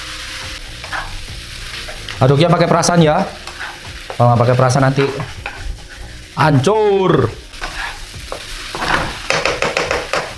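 Kwetiau noodles stir-fried with soy sauce and Worcester sauce, sizzling and scraping in the pan throughout, with a few loud bursts of stirring and someone talking over parts of it.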